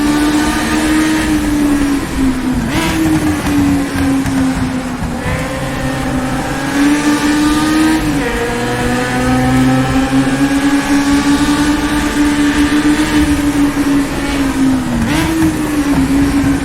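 Loud 1960s Formula race car engine in rFactor 2, droning steadily alone with rising and falling pitch through gear changes and throttle, continuous and close throughout.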